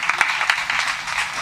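Audience clapping at a Hindi poetry recital (kavi sammelan), a brief burst of applause from a crowd, steady and fairly loud, with faint voices mixed underneath.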